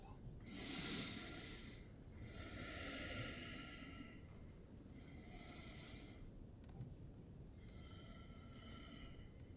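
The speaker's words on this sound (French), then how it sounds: "prenez 2 inspirations profondes" Several deep, slow breaths drawn in and released during a French-language hypnosis session, each a soft, airy rush repeated about four times, quiet and close.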